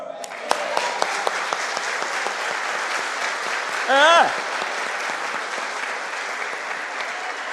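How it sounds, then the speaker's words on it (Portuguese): A church congregation applauds during a sermon, a continuous dense clapping wash with a few sharp louder claps early on and a brief voice in the middle. "Vamos aplaudir o Senhor?"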